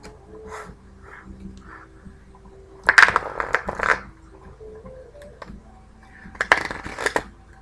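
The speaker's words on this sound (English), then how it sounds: "I'm going to start shuffling this deck." A golden tarot card deck is shuffled by hand at close range, soft riffling and slapping of cards in a few short bursts separated by quieter handling.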